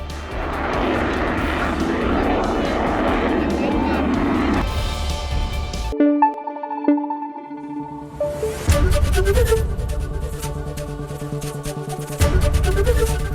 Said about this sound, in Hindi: पीएम की मौजूदगी में राफेल और सुखोई लड़ाकू विमान एक स्पेशल एरियल डेमो देंगे। इसमें विमान हाईवे से ही लैंड और टेक ऑफ दिखाएंगे।